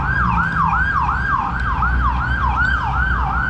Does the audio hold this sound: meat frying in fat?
no